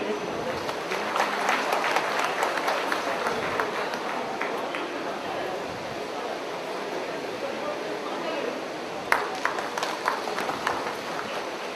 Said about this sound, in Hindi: इस पंडाल में बैठे सभी से निवेदन करूंगी, कम से कम ताली तो बजनी चाहिए।